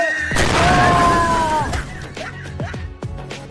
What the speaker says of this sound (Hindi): दिवाली है, एंजॉय करो और लो पटाखे फोड़ो।